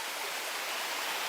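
A forest river flows nearby, its continuous broadband rush and splash of water filling the whole moment at moderate volume, with no talking.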